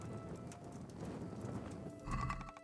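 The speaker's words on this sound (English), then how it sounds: "está el caballo del noble ese bastardo." A horse in a video game clip-clops with its hooves in a quick irregular patter, ending in a brief louder whinny, all faint beneath the game's background sound.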